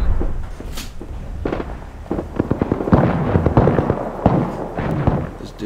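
Rapid gunfire in the battle royale game Apex Legends, dense bursts of sharp shots crackling close and loud with short pauses between volleys.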